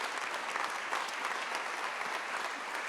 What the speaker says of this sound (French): Sabrina, on peut l'applaudir.